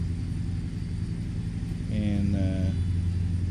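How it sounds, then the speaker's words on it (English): A Mack truck engine in the video game American Truck Simulator, a low steady rumble that swells slightly midway, muffled and constant, with a brief voice over it. "which made the sound of the truck really muffled and kind of quiet"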